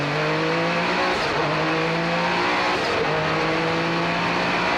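A 1990 Porsche 962C race car approaches the finish line of a vintage race, its loud engine holding steady harmonic tones that dip and shift as it nears.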